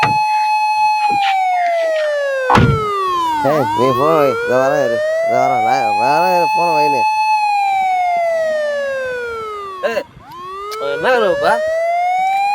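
A loud wailing siren sweeps up and down repeatedly, switching between slow wails and fast yelping bursts, while people shout and talk over it.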